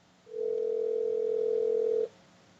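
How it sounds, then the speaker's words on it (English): Single steady telephone ring tone on an outgoing call, a clear sustained electronic note lasting nearly two seconds, fairly faint and alone without talk. "Let me ring his phone once."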